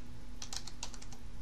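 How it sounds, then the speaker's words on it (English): A quick burst of about eight keystrokes on a computer keyboard, crisp light clicks close by over a faint steady hum, no voices. "Let's see what happens if I type something that's not correct."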